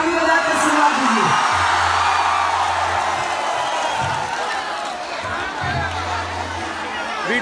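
A large crowd at a live Bhojpuri stage show in Kolkata roars with sustained cheering, whooping and shouting, a dense, loud wash of voices that continues throughout with no breaks.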